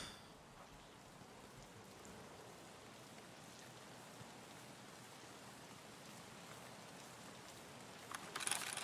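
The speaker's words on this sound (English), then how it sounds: "It's raining." Steady rain falling in a video game, a soft continuous hiss of drops on surfaces that stays even and unbroken throughout, with a brief louder patch near the end.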